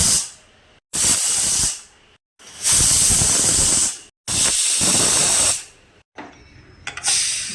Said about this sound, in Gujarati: કુકર બંધ કરી દઈએ અને 4 થી 5 વિસલ વાગવા દેવાની છે